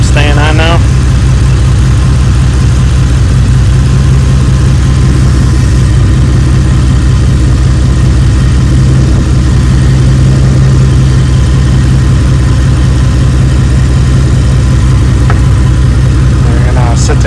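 A car's air-conditioning pump runs steadily while the engine idles, giving a continuous loud low hum with a steady tonal drone and no change over the whole stretch.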